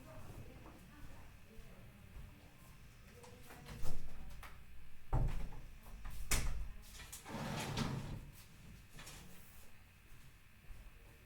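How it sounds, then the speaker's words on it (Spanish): Footsteps and shuffling in a room lead to a door being pushed shut, with a few knocks and a firmer thud in the middle, heard at moderate distance with voices faint in the background. "Solo espérenme, están haciendo mucho ruido y voy a cerrar la puerta."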